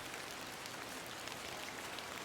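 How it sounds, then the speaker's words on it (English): Steady rain falls in The Excavation of Hob's Barrow video game, a continuous soft hiss of drops that stays even and faint throughout. "I'm glad the rain doesn't put you off."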